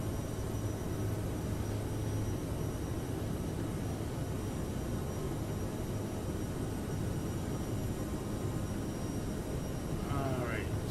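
A CRJ-700 regional jet climbs after takeoff in a flight simulator, a steady loud engine roar and broadband rush that holds evenly throughout, with a brief whine rising near the end.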